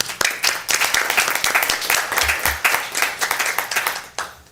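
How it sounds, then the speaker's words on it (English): Steady applause fills a city council meeting as attendees clap for an employee of the building division. Dense, sustained claps carry at an even level for several seconds with little other sound. "I would like all of you to share with me and applaud for Terry."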